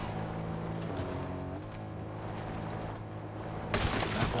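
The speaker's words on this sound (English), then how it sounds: "I can still hear that car" A car engine hums steadily amid busy Fortnite game audio with gunfire-like bursts, and a loud harsh burst of noise near the end.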